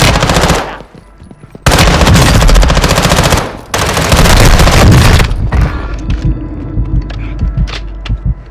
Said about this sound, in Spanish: Estamos disparando.